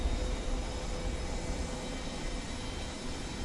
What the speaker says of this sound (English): Listen to those engines, huh?